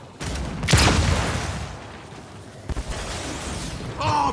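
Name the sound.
gunfire in the video game Gears 5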